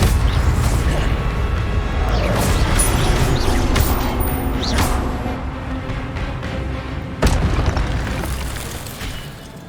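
Incendio fire spell cast in the Hogwarts Legacy video game, loud booming bursts of flame with crackling roar, a second sharp blast partway through, no talking.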